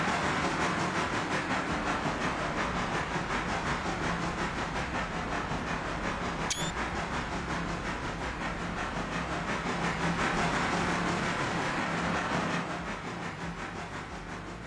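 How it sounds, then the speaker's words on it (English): A long, heavy freight train passes slowly with a steady, loud rumble and hiss of rolling wagons and faint wheel clatter. It continues unbroken for about fifteen seconds, then fades slightly at the end. "Look at this long, heavy freight train."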